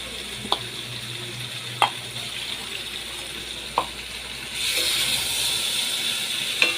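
Potatoes and prawns stir-fried in a pan with chilli powder, steady sizzling broken by a few sharp spatula knocks, the frying swelling louder toward the end.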